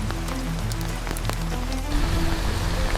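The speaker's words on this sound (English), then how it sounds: "Rain hammered the walls, but here its roar was a shield" Heavy rain drums steadily on the walls of a heated tent during a storm, a dense continuous patter with scattered sharper drops, close and loud, swelling slightly stronger toward the end.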